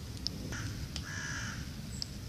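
A crow caws near a farm by the Aire river in the countryside, giving a few short, harsh calls at moderate distance over a quiet outdoor hum.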